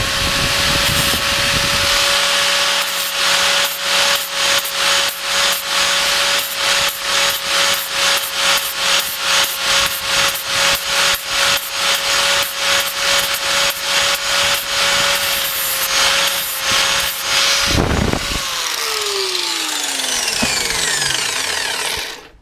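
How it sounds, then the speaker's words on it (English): Flap disc on a power grinder working a metal surface during two-stroke engine work, a loud steady whine with rhythmic scraping pulses that stops abruptly near the end as the tool spins down. "And that's the surface the flap disc produces."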